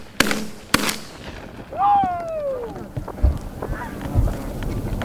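A shotgun blast during a bird hunt with dogs in the field: two sharp, close reports in quick succession, followed by outdoor wind noise and a voice.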